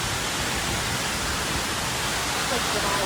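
A hidden river waterfall in Meghalaya gives a dense, steady roar of rushing water that fills the scene loudly and evenly, with a voice faintly present beneath it.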